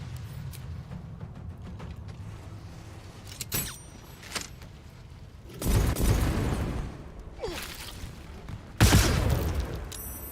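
Bombs going off in Baldur's Gate 3 on Honour Mode: two separate heavy blasts a few seconds apart, each a loud, broad burst with a short rumbling tail, after quieter clicks and small thuds.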